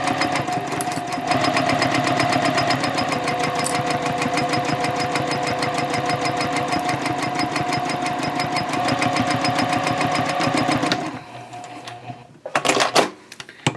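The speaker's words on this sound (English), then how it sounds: "Back stitch to start, and then sew all the way across the bottom." A sewing machine back-stitches and then runs a long continuous seam across the bottom of a fabric tote bag, a steady rapid needle chatter close up for about eleven seconds before stopping, followed by a few handling knocks.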